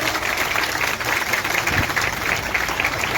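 A crowd at a village gathering claps to honour a girl who won a karate gold medal, giving a steady, even round of applause that stays moderately loud throughout, with no voices on top.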